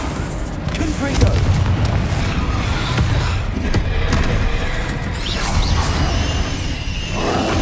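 Confringo blasting spell from the game Hogwarts Legacy goes off amid continuous loud rumbling booms and whooshing combat noise, with a brief voice heard in the mix.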